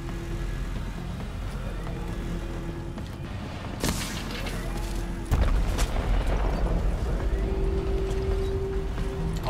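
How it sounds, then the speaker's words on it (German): An exploding barrel in the shooter game The Division bursts with two sharp blasts, the second followed by a louder, sustained rumble that carries on to the end of the clip over steady in-game background noise. "da setzt mich ja nicht neben so ein explodierendes Fass"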